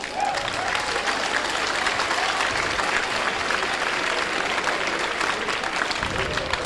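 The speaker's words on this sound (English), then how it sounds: "Big round of applause for both fighters." A fight-night audience applauds for both fighters after a knockout bout, producing dense, steady clapping that fills the room evenly throughout and sounds moderately close.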